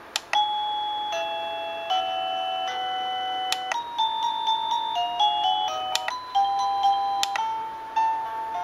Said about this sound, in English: There's a long list of 52 different door chime